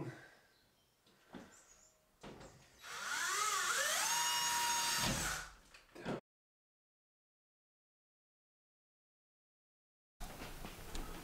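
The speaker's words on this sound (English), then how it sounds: "it's then a case of getting it secured and screwed up with the drywall screws." A screw gun drives drywall screws into plasterboard during a garden room build. One close whirring burst rises in pitch as the screw seats, with handling noise before it and a drop into silence after.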